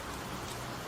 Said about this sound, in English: The storm continued to rage outside, rain lashing against the windows.